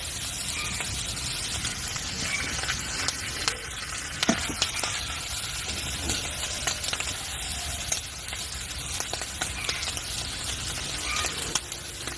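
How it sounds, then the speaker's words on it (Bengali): Fish sizzles steadily in a hot pan, a continuous close frying hiss with scattered pops and occasional clicks of stirring throughout, no voices heard. "এইবার আমি এরকম মাছ ভেজে নেই"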